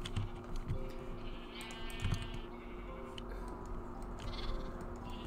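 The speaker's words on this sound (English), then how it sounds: "we made ourselves a sheep farm" Sheep bleat on a sheep farm in Minecraft, faint and repeated over a low steady background with keyboard typing clicks throughout.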